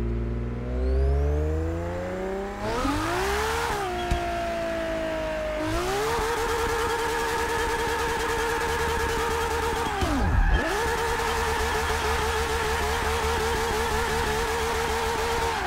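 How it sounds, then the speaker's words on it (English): A 1,100 hp turbocharged Ferrari F12 in Forza Motorsport 6 roars through repeated rev rises and gear-shift drops, sustained and loud, with tyre skids and a brief dip in engine note midway. "I love the sound of turbos."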